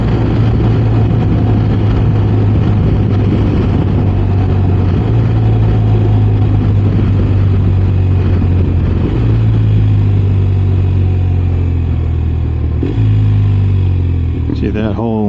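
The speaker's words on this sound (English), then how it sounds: "that whole transition right there all the way to first gear was done with the quick shifter" A BMW motorcycle downshifts step by step through the gears to first with a quick shifter, its engine droning loudly up close with pitch dropping at each shift; someone talks over the ride.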